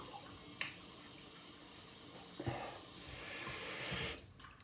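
Water splashes and drips as a face is wetted with cupped hands before a shave, with a short burst of splashing near the start and more sloshing toward the end, close and fairly quiet.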